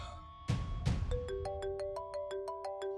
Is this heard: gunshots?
no